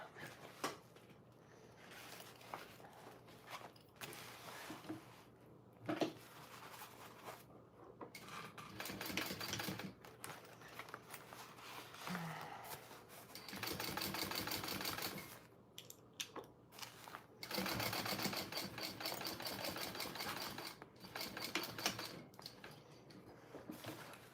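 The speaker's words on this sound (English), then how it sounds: "now I need to top stitch this side here" A sewing machine top stitches a bowler bag in long, steady runs of rapid mechanical chatter. Short pauses and a few clunks separate the runs, with no voices.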